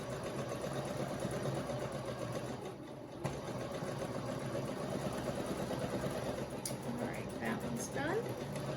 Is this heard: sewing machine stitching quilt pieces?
yes